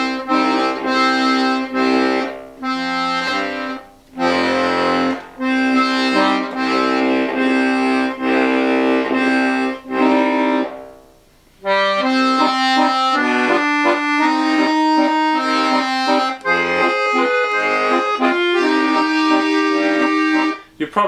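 Bayan accordion with some left-side reeds failing to respond, sustained chords and bass notes swelling and cutting off with bellows changes, a brief near-silent gap in the middle, loud and close with no voice.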